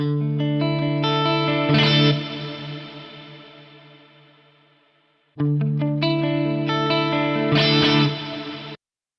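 Electric guitar chords played through an FM9 amp modeler with pedals ring out heavily processed with chorus and reverb, each phrase decaying in a long fading tail before the next strum starts.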